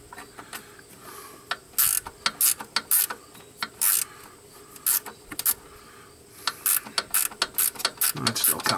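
A hand ratchet wrench clicks away on a 2007 GMC Denali in quick, sharp bursts of ratcheting close by, stopping and starting in irregular runs, and someone speaks briefly near the end.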